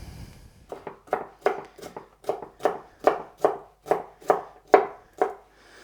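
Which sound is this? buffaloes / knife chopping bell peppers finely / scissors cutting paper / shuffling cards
knife chopping bell peppers finely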